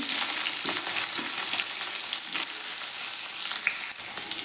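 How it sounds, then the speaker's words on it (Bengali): Green beans frying in hot oil in a pan with potatoes, a steady loud sizzle running throughout with occasional scraping stirs, no voices. "ওর মধ্যে বিনশুঁটিগুলো ভেজে নিচ্ছি।"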